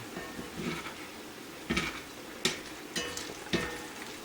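Pork and potatoes fry in a pan for a home breakfast, a steady sizzle broken by several sharp scrapes or stirs of a spatula, close and moderately loud with no talking.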